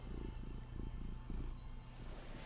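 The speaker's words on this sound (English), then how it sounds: "the world's loudest purring cats" A cat purrs loudly and close, its rough, rumbling breaths pulsing in a regular in-and-out rhythm, with no talk over it.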